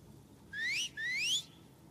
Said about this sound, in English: She just whistled like right away.